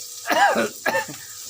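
Coughing and throat clearing from someone caught in the fumes of garlic and onion frying for leafy greens, two close, harsh coughing bursts with a faint kitchen background and no talk.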